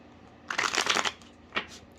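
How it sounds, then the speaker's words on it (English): A deck of oracle cards being shuffled close by: a quick flurry of crisp riffling flutters lasting about half a second, then a short second burst after a brief pause. "Let's get some oracle cards out here."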